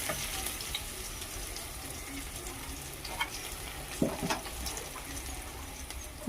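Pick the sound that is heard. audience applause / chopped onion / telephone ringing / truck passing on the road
chopped onion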